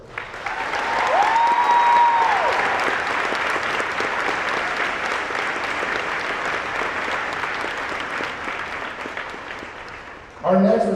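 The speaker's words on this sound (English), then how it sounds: "I just want to give another loud round of applause for Jillian Orlando" A large audience at a high school senior honors convocation gives a long, loud, sustained round of applause that holds steady for about ten seconds. A brief tone sounds early and a louder burst of noise comes at the very end.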